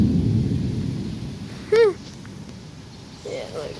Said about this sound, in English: It's starting to pour now.